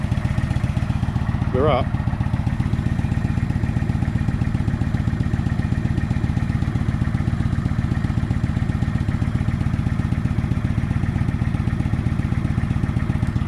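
A Kawasaki VN900 motorcycle with its baffles still fitted idles steadily and evenly from a few feet away, a low rumbling throb that continues throughout, with a brief spoken phrase near the start.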